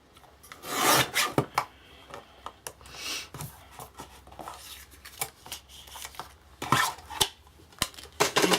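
Paper trimmer slicing through card while making a Christmas window card, a run of irregular sharp rasping and scraping strokes, close and moderately loud, with brief pauses between cuts.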